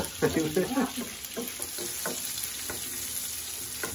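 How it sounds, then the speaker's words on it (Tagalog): Onions sautéing in butter and oil in a pan for spicy buttered tuna, a steady close sizzle with a few stirring clatters early on and a faint voice at the start. "So magigisa tayo ng sibuyas."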